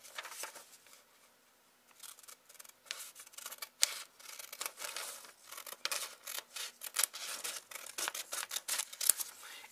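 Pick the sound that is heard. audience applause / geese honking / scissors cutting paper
scissors cutting paper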